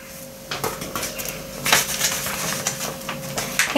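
Frozen aronia (black chokeberries) tumble into a portable Kitfort KT-3006 blender, giving a scatter of hard clattering ticks and clicks against the jar, close and fairly loud, with no talk.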